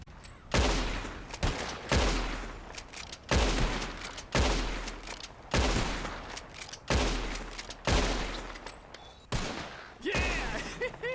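Repeated shotgun blasts fired at birds in Red Dead Redemption 2, seven or eight loud sharp reports spaced roughly a second or more apart, each with a booming low tail and echoing decay.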